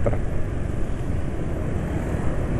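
A car engine idles on oil that has been in use for 12,500 km, giving a steady, rough low drone close by with nothing else heard over it.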